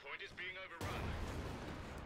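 A cannon fires in Company of Heroes 2, a World War II strategy game. Brief speech is cut off by a sudden loud blast that rolls into a sustained rumbling boom.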